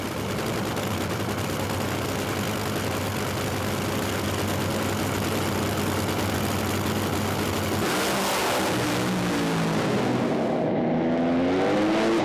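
A drag racing car's engine roars loudly and steadily at full throttle, the pitch sweeping upward toward the end as the car accelerates hard away, with no one speaking.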